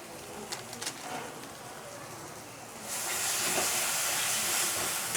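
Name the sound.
chicken curry spice paste frying with water in pan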